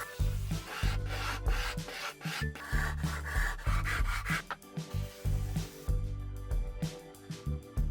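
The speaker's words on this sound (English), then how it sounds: "Now I'll start rounding over the edges with 80 grit and finish with 320." Wooden edges being rounded over by hand with 80 to 320 grit sandpaper: rapid, rhythmic rasping strokes, close and fairly loud, repeating steadily throughout with brief pauses between passes.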